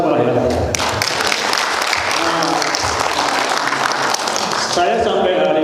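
Workplace audience clapping to honour employees' long years of service at a company awards ceremony, a steady dense wash of applause filling the whole stretch with a voice talking over it near the end.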